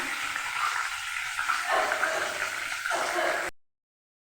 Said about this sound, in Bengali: ইলিশ মাছ বেশি ভাজতে নেই, ভাজলে ইলিশের টেস্টটা অনেকটা নষ্ট হয়ে যায়। একটু হালকা করে ভেজে নিতে হয়।